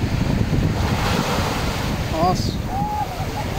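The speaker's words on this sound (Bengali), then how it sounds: "এই যে দেখেন ঢেউগুলো খুব ভালো লাগে" Steady roar of ocean waves and surf at Al Jassasiya beach, Qatar, with wind buffeting the microphone, a continuous wash of noise throughout, with brief whistling bird-like chirps near the end.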